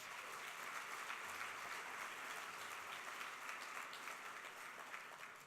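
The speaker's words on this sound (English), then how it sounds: "Let's give Luis another round of applause." A conference lunch audience applauding a speaker, a sustained wash of many hands clapping at an even, moderate level throughout, heard from within the crowd with no voices over it.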